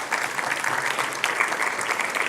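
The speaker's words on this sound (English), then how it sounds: "just another round of applause for Peter" Sustained audience applause at a 2019 GO Ecosystem briefing, a dense crowd of hands clapping steadily and evenly throughout, fairly close and without voices.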